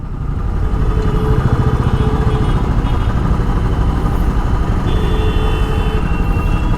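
A Royal Enfield Classic 350 motorcycle idles at a traffic signal, its engine giving a close, loud, steady thumping pulse that runs unbroken throughout.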